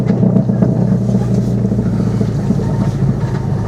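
Car backing out of a rural yard: a steady, fairly loud engine drone with a low rumble throughout, no one speaking.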